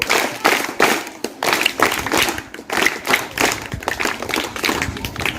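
A group of schoolchildren claps together in a fast, continuous patter of many small hands, fairly close and loud, with no talking over it.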